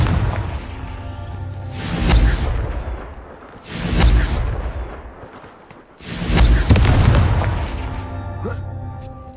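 Confringo blasting spells going off in Hogwarts Legacy: three booming explosions about two seconds apart, each landing with a whooshing impact and then a rolling decay, loud and close.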